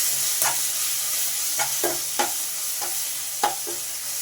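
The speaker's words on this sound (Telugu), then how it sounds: "మామిడి తురుము వేసుకున్న తర్వాత మంచిగా ఇలా ఫ్రై చేసుకుందాం" Grated raw mango frying in a pan, with a steady close sizzle and several sharp, irregular scrapes of a spatula stirring it, alone without talk.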